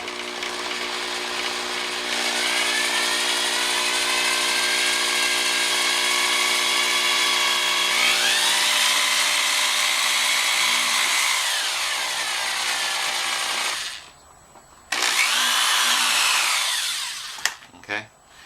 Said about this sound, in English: This ultra suede stuff really does work well, and I can just drill right into it